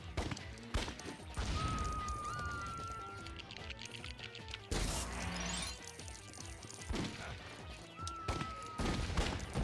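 Video game gunfire from Lego Indiana Jones, a series of sharp shots and crashes scattered across the clip with busy game effects and music behind them, fairly loud and close.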